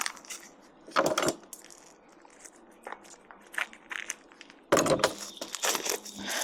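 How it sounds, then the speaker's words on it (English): A packet of mature blue Stilton cheese being torn open by hand, heard as close, crinkly plastic rustles and tearing crackles in two louder bursts with quieter rustling between and after, with no talk. "this one is the mature blue Stilton. Right, just tear it open"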